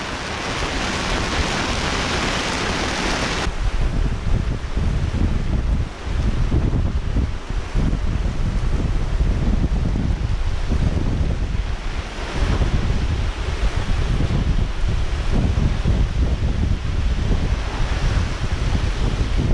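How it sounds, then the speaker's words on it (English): Strong squall wind roars at sea aboard a boat on a rough crossing to Inagua, with big waves crashing and heavy, continuous wind buffeting the microphone, loud and close for the whole stretch. "Whoa, what a load of wind."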